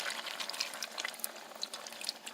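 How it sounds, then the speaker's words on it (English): Coconut milk pours into a cooking pot in a steady liquid splash and trickle, close and fairly loud, with no voices. "I'm going to pour my coconut milk in here."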